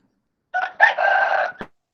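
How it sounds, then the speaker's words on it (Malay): A rooster crows once nearby, a clear, loud cock-a-doodle-doo lasting about a second, ending in a short final note, with silence before and after. "Ayam."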